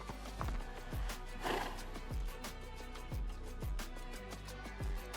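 Horse hooves in DayZ with a horse mod, a steady rhythmic clip-clop of about ten hoofbeats at a walking pace, close and moderately loud over a low background rumble.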